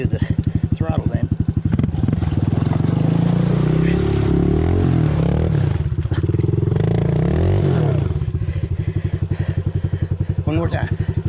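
A Honda CT125 motorcycle stuck in mud revs hard, its engine rising and falling in loud surges over several seconds, with clattering and people talking and shouting over it up close.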